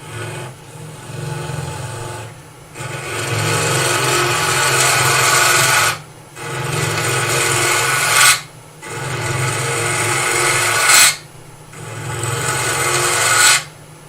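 A power drill grinds steadily into wood in long, loud bursts, pausing briefly between each of four or five runs.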